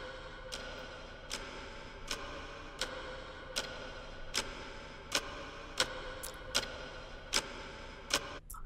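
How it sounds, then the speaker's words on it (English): Steady clock ticking, evenly spaced crisp ticks roughly every 0.8 seconds over a low, constant background hum. "the first thing that you'll notice here is the clock sound."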